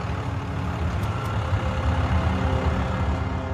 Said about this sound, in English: The truck's engine started.